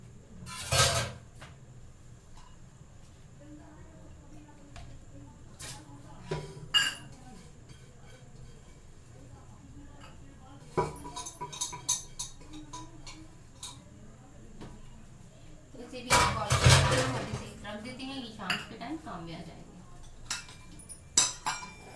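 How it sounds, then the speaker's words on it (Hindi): Dishes, bowls and a serving spoon clink and knock in a home kitchen while leftover cooked rice is moved into a bowl, with scattered sharp taps and a few louder clatters among quiet stretches. "अब मैं इसे कर देती हूँ एक बाउल में, क्योंकि बर्तन धोने के लिए भी सारे इकट्ठे करना होते हैं।"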